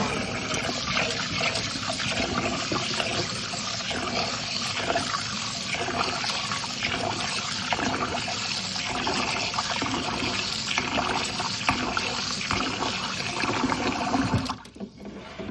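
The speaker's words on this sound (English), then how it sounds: "I normally wash my rice 3 to 4 times." White rice is washed in water on a stovetop, with steady swishing, sloshing and trickling that runs continuously and close for about fifteen seconds before a brief clatter near the end.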